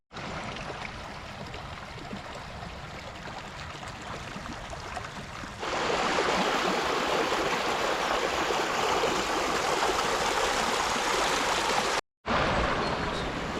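Spring water and a stream flow steadily near a concrete weir on an old Roman road in the Peak District, a continuous broadband rush that grows louder partway through, with a brief dropout near the end.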